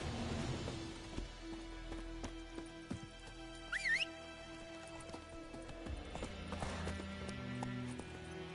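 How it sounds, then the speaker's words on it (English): Hooves clip-clop steadily from a horse in The Witcher 3 video game, with a brief neigh around the middle, over a low game music and ambience bed. "Slow now. Whoa. Whoa there, Roach."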